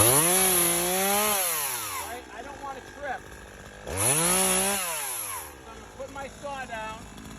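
A short chainsaw revs loudly in two long surges while cutting brush, its pitch climbing and falling as it cuts, with a voice talking faintly between bursts.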